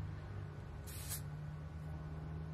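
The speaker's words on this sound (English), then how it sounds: "I'm gonna use my finger to spray it" Dry shampoo sprays from an aerosol can onto a wig in one short, quiet hiss lasting about a third of a second, over a low steady background hum.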